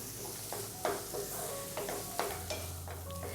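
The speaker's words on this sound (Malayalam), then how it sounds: "ഇപ്പോൾ നമ്മുടെ സവാളയെല്ലാം നന്നായിട്ടൊന്ന് വഴണ്ട് തുടങ്ങിയിട്ടുണ്ട്." Onions are sautéed in a pan, a soft steady sizzle broken by several sharp scraping and clinking strokes as a utensil stirs them against the metal, close and without speech.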